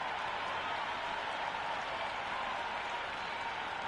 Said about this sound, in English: already the crowd making a hell of a racket